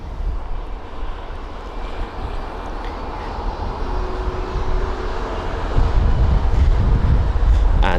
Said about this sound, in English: so we'll focus on the Icelandair 757, seeing as that is taxiing right in front of us